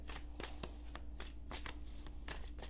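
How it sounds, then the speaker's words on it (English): A deck of tarot cards being cut and handled, giving quick, crisp riffling and slapping bursts in an irregular rhythm, close and quiet, with no speech. "So I'm going to cut the deck twice."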